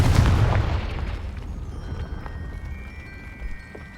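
Confringo fire spell explosion in Hogwarts Legacy, a loud booming burst at the start that rumbles and fades away over a few seconds.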